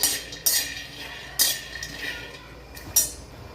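Peanuts being dry-roasted and stirred in a hot kadhai, a few sharp metallic clinks of a spoon scraping the pan at irregular intervals, fairly close.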